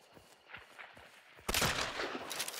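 Gunfire in the Hunt: Showdown video game starts with a few faint taps and then a loud burst of overlapping shots. A crackling, echoing tail lingers after the burst.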